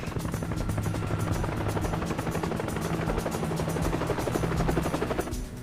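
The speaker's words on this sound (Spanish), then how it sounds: "Oigo un helicóptero." A rescue helicopter drones steadily with a fast rhythmic rotor chop that stays loud and close throughout, with no talking.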